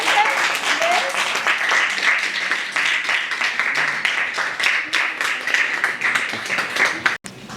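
Many hands clap for a school prize winner at a Swami Vivekananda Jayanti event, sustained applause with a sharp rhythmic edge that breaks off abruptly near the end, a voice speaking over part of it.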